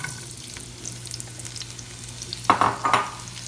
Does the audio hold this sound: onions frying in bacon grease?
yes